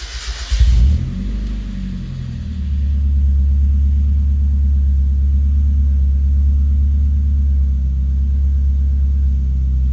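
A freshly built turbocharged Mazda Miata engine makes its first cold start: a short burst of cranking, then the engine catches and settles into a loud, steady, rumbling idle that runs close and uninterrupted.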